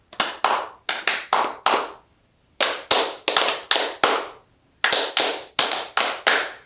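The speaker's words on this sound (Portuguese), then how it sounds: "Então, 2 palmas e daí dá uma paradinha e faz mais 3" Crisp hand claps in a school physical education class beat out a fandango rhythm: pairs and triplets of sharp, close claps separated by short pauses, repeated in regular groups with a longer break midway.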